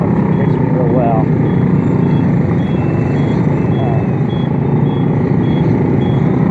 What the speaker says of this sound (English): Yeah, this traffic.